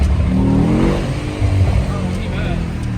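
Mercedes-AMG GT63S V8 engine revving loudly from inside the cabin on a late-night drive, a deep rumbling roar with surging revs and low burbles, voices talking over it.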